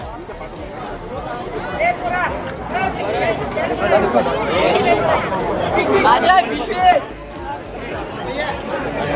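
Dense crowd chatter fills a religious gathering in Pimpalner, many overlapping voices forming a steady, close hubbub throughout.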